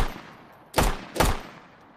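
Two sharp, loud shots from a 10mm pistol, the N99, in the DayZ Project New Vegas mod, spaced about half a second apart, each decaying quickly into a brief tail, with no voices.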